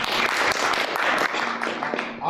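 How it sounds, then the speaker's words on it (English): An audience at a lecture applauds for a woman, with steady clapping throughout, fairly close and moderately loud, and a voice speaking over part of it. "A loud applause for that lady."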